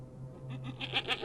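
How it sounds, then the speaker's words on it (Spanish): A goat bleats in a few short wavering cries that rise and grow louder toward the end, heard close and clear over a low steady hum. "escuchamos el balar de una cabra"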